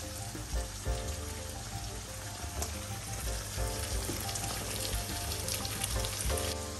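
Food fries in a pan of hot oil for Bulgarian home cooking, with a dense, steady sizzle and crackle throughout.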